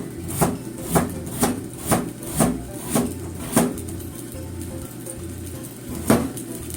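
A knife chops new potatoes on a cutting board in about eight evenly spaced, close knocks, a pause, then one last cut.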